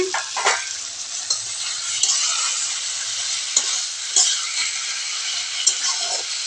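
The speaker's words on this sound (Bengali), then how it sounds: "কপি আর আলুটা দিয়ে আরেকবার কষিয়ে নিব ভালোভাবে" Cauliflower and potato sautéing with spices in a pan, a steady loud sizzle with intermittent scraping strokes of a spatula stirring throughout.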